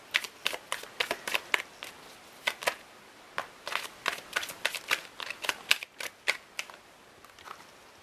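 Tarot cards shuffled for a new moon reading, a quiet close run of crisp riffling flutters and soft taps repeating in uneven bursts, with no voices.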